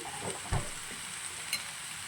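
Green beans fry in an oil-filled pan at home, giving a soft, steady sizzle with a couple of brief clinks from stirring.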